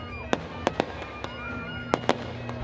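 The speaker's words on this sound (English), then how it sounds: "we went and saw the fireworks show" Fireworks at a large Renaissance faire at night, a series of sharp bangs and crackling pops spaced irregularly, some in quick pairs, heard at a distance over a steady background hum.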